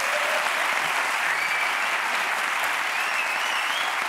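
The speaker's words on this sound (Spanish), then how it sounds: "esta explicación técnica merece un aplauso a la ciencia" Steady, dense applause from a television studio audience on a late-night talk show, loud and sustained throughout with no pauses, with no voices emerging over the clapping.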